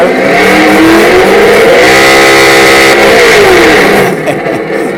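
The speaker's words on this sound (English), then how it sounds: "That is the audio in park with all the different sounds as it revs up there." A Traxxas Slash RC truck's onboard sound module plays a loud simulated engine revving while in park, with a continuous roar that rises and falls in pitch and then drops away at the end.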